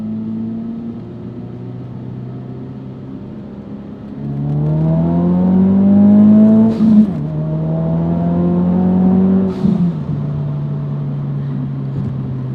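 A Ford Focus RS 2.3 turbo engine heard from inside the car, droning steadily then rising in pitch as it accelerates, with two quick dips at gear changes, loud and close.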